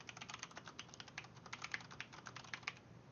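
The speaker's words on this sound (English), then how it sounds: "so I'm ready to type." Rapid, fairly quiet keystrokes on a computer keyboard, typing text into video editing software, clicking in an uneven rhythm throughout with no talking.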